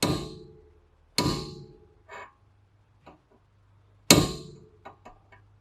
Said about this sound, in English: take the hammer, and just a couple of good hits should do it